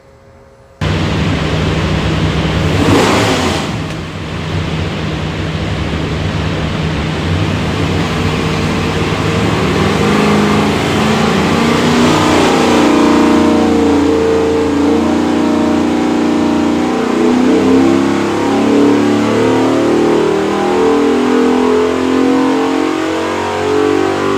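A 408ci LS V8 engine bound for a Hummer H2 revs hard and sustained on a dyno, a loud continuous roar climbing in pitch with a brief spike early on, no voices.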